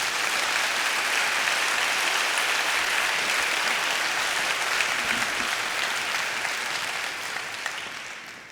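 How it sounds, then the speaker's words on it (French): An audience at an employers' federation gathering applauds the MEDEF71 staff team, warm sustained clapping from a large crowd that holds steady and then tapers off near the end. "Je vous remercie d'applaudir chaleureusement Delphine, Fanny, Ghislaine, Karine, Maëva, Noëlla et Marius"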